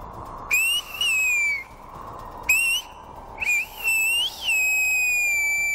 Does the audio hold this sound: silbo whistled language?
yes